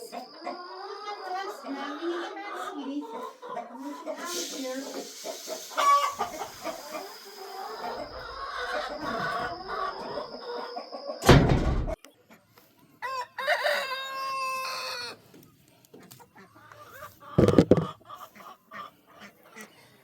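Chickens cluck and a rooster crows close by, mixed with loud bursts of clattering and rustling and brief human voices.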